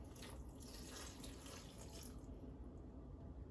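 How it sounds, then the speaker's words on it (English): Water runs steadily from a tap or is poured into a pot of wrapped grape leaves for dolmades, a continuous soft splashing stream close by that stays fairly quiet throughout with no voices. "what you're gonna do is you are going to put water in here to lightly cover them."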